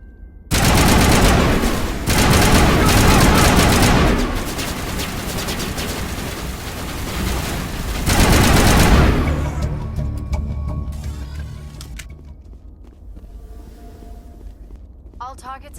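Gunfire in the video game Mass Effect Legendary Edition: loud sustained automatic bursts rattle for several seconds, pause, return in a second volley, then trail off into fainter scattered shots and clicks.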